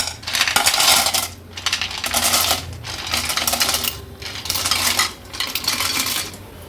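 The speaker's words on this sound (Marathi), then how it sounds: "आता ह्या स्वच्छ धुवून घेतलेल्या शिवल्या आपण ॲड करूया" Washed clams tipped into a pot holding about half a glass of water, giving dense, rattling clatters of shells against metal in several long pours, loud and close, with no voices.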